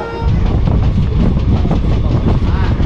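The Teesta Torsha Express pulls out of Nabadwip Dham, a loud, close rumble of rolling railcars with rushing wind and steady rattling throughout.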